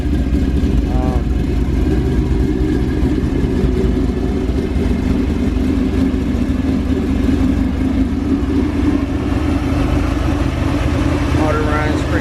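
A cammed Chevrolet El Camino engine idles with a lumpy, steady rumble, loud and close, for the whole stretch, with a couple of faint higher sounds briefly rising over the running motor.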